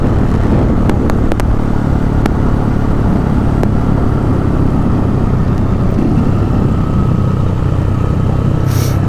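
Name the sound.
motorcycles and cars passing on a mountain road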